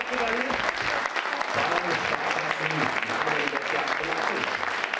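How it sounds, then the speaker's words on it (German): The crowd at a women's épée fencing World Cup final in Leipzig applauds both fencers, a steady, moderately distant wash of clapping that holds evenly throughout, with some voices mixed in. "gibt es unserem Publikum noch einmal einen Applaus für beide Fechterinnen"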